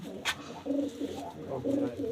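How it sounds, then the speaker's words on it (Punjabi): Pigeons coo softly nearby in low, throaty, repeated calls, with a brief rustle at the start. "ਆਹ ਬੱਬੀ ਬਾਈ ਦੇ ਕਬੂਤਰ"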